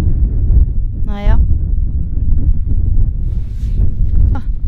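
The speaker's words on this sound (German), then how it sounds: "Hier ist es sehr windig." Strong wind buffets the microphone on a mountainside, a continuous low rumble and roar running the whole time, with a brief voice and faint background sounds breaking through.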